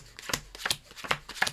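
Playing cards being shuffled left to right during a math-based card trick, heard as four quick, crisp riffling bursts at a steady rhythm, close and fairly quiet, with no talking.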